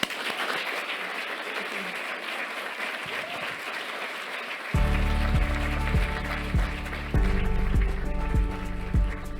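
A commencement audience applauds after a student council address, a broad, steady wash of clapping through the whole stretch. Partway through, low rumbling thumps and a droning hum come in beneath it.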